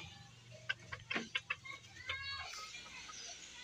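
A breeder rooster named Brando clucks and squawks in a string of short, sharp calls close by, with a brief rustle and soft background noise.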